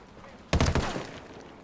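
Gunfire in the video game Ghost Recon Wildlands: a close, loud burst of a few rapid shots that quickly rings off into a fading tail, with quiet background sound before and after.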